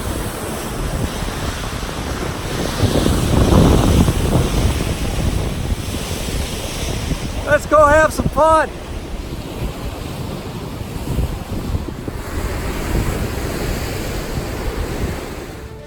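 Waves lapping on a Lake Superior shoreline with gusting wind buffeting the microphone, a continuous rushing wash that swells midway, with a short spoken phrase partway through.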